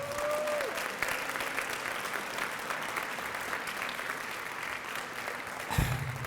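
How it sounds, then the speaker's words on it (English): A hall audience at a youth council career-pathways graduation applauds the graduates, a dense, sustained wash of clapping that holds steady throughout, with a brief tonal sound at the start and a thump near the end. "Would you give them a round of applause?"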